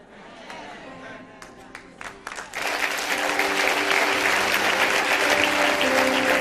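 An audience at a sermon breaks into applause and cheering, starting with a few scattered claps that swell into sustained, loud crowd clapping.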